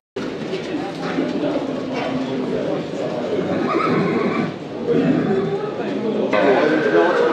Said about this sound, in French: Et dire que tous ces chevaux-là sont à vendre